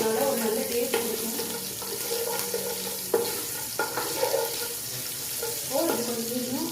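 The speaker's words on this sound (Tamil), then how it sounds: "இந்த கடுகும் ஜீராவும் பொரிய ஆரம்பிச்சோங்க" Mustard seeds and cumin spluttering in hot oil, a steady crackling sizzle with a few sharper pops, heard close up with no one talking.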